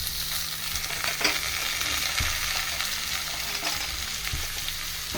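Green peas and green chilli frying in a pan of potato samosa filling, a steady crackling sizzle with a few sharp scrapes and knocks of stirring, close and continuous without talking.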